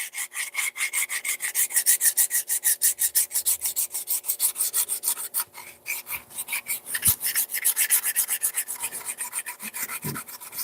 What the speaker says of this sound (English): So I'm kind of burnishing the clay, kind of make it smooth again.